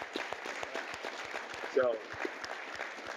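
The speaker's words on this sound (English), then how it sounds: "I just want to give this man a round of applause, man." A conference audience gives a man a round of applause, heard as quick rhythmic claps running steadily beneath a man's speech.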